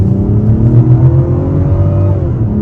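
2024 Mazda CX-90 Turbo Premium Plus accelerating hard, a loud, steady engine drone rising in pitch from inside the cabin, with no talk over it.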